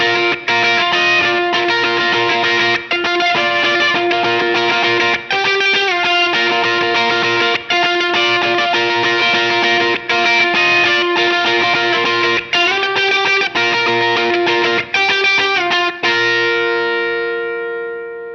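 A jangly, chorus-tinged electric guitar riff played through a Line 6 Helix for a praise and worship tone, ringing arpeggiated notes repeating in steady phrases with heavy echo and reverb, loud and alone, ending on a sustained decaying chord.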